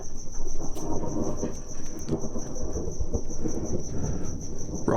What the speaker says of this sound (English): Well, everyone, it's the middle of summer, and there is a thunderstorm brewing.